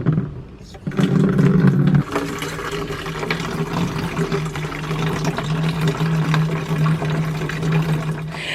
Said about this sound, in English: I just put my watering can underneath, and this is how I water my plants.